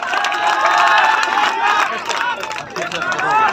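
Large outdoor crowd at a dairy cricket program event clapping and cheering loudly in rising bursts, with whistles and shouts mixed in and a voice talking over it.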